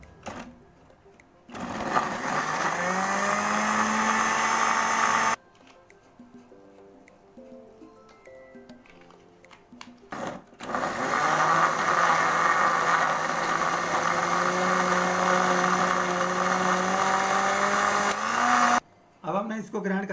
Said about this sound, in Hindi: हमने अब इसको ग्राइंड कर लेना है।